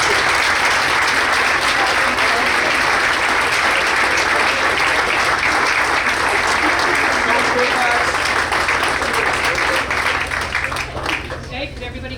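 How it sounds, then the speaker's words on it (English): Loud, sustained applause from a crowd at a school district board of education meeting, continuous dense clapping that holds for about eleven seconds before tapering slightly at the end. "Want to give a round of applause to our students?"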